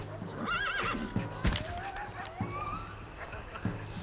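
Sick, exhausted horses on a comic Mountie trek whinny with a clear, wavering neigh, followed by a second fainter one, over soft hoof clops and shuffling.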